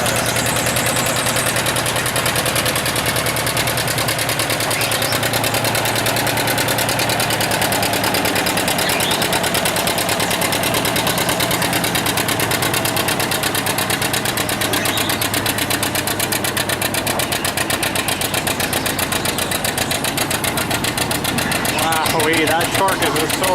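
A John Deere tractor's engine roars under heavy load during a tractor pull at a heritage tractor show, a loud, steady, continuous drone with a rough rumble that holds for the whole stretch, with crowd noise and talk mixed in.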